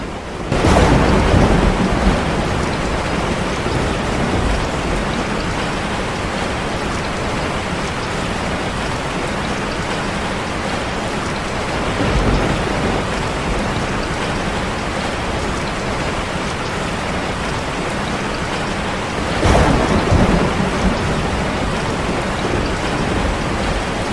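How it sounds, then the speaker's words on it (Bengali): A heavy downpour roars steadily in a cartoon storm, the dense rain hiss broken by loud thunder cracks near the start, midway and near the end, with no voices. "আর দেখতে দেখতে শুরু হলো মুষলধারে বৃষ্টি। আর তার সাথে সাথে ইন্দ্রদেবের বজ্রপাত"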